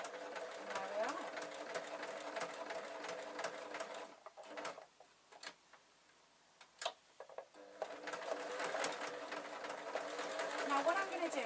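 A sewing machine stitches a painted fabric bookmark, running in quick even bursts that pause briefly midway, while someone talks over the whirring.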